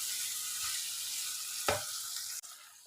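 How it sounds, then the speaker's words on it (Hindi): Gram flour (besan) roasting with spices in a pan, a soft continuous sizzle with a few scraping stirs, close and quiet with no talking. "बेसन को भी हमने इसी तरह ही मसाले के साथ अच्छी तरह से भून लेना है।"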